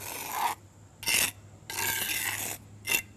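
A trowel scrapes excess Sakrete Top'n Bond patching compound off a raised concrete crack repair, giving four close, raspy strokes of varying length separated by brief pauses.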